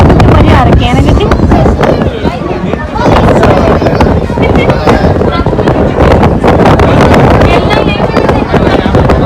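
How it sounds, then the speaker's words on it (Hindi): A strong sea wind buffets the microphone on the coast at Kanyakumari. Loud, continuous roaring gusts cover the whole stretch. "वहाँ पे ना बहुत तेज़ हवा चल रही थी क्योंकि वो समुद्र के बीच में है ना"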